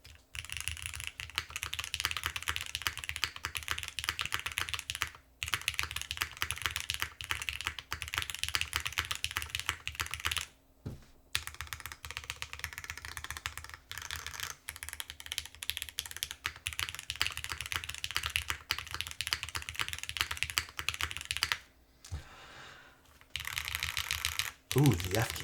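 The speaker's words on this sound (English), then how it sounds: "Ooh, the F keys sound really sharp on this too." Rapid clacky keystrokes come from a custom-built mechanical keyboard, continuous and close, with a few brief pauses.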